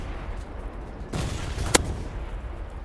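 Gunfire in a vehicle combat video game, a burst of shots rising over a steady low rumble with one sharp crack near the middle, fairly faint and with no talking.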